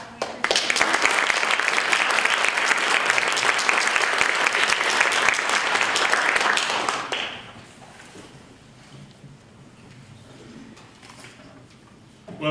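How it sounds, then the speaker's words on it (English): An audience in a Chattanooga hall bursts into loud, sustained applause for several seconds, then it dies down to scattered claps and room murmur. "So if you guys would all please give a big warm round of applause for Mike Elk and Sean Weaver."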